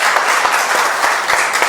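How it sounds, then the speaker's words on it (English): Sustained audience applause from a studio class crowd, dense steady clapping throughout at a close, even loudness with no talk. "let's give a round of applause"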